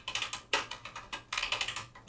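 Carriage release on a 1959 Royal Futura portable typewriter clicks repeatedly, a run of sharp, close mechanical clicks and snaps in quick, uneven succession.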